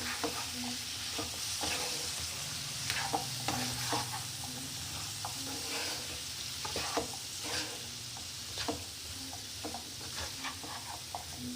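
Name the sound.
potatoes being sautéed in a pan for carrot and pea curry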